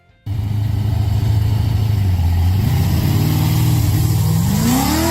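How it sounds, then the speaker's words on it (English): A 1969 Plymouth Barracuda muscle car engine fires up abruptly into a loud, deep, rumbling idle, then its growl climbs steadily in pitch as the engine revs, heard up close with no talk. "the Barracuda delivers a satisfying growl that can make any drive a thrilling experience"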